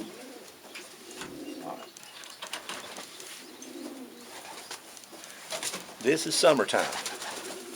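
Racing pigeons in a loft coo in low, throaty rolling calls, strongest toward the end, with someone talking nearby and a brief high chirp.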